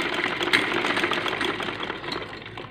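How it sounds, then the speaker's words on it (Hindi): Sewing machine stitching piping onto fabric for a homemade foam cover, a steady close whirring drone running throughout without pause. "ये देखो ना इधर से 4 इंच मैं सिलाई करता हूँ"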